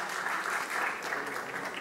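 Audience applause at a student tuna music performance, a dense, steady wash of clapping held at even level throughout.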